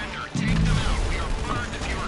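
Gunfire in GTA Online during a heist, heard as a dense burst of shots and booms that sits under ongoing talk across most of the moment.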